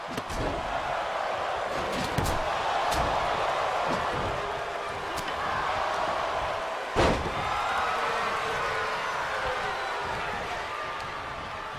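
A wrestling slam in the WWE 2K23 video game lands during a Wargames match as one sharp thud over a constant roaring arena crowd, with a few fainter impacts scattered around it.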